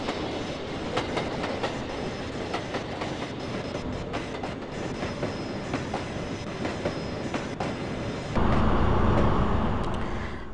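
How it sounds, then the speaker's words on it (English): A train in the Trainz railway simulator game runs between a town centre and an airport, its steady rumble and clickety-clack continuing throughout, growing louder and heavier near the end. "We follow the train which connects Nijverdal center with the airport."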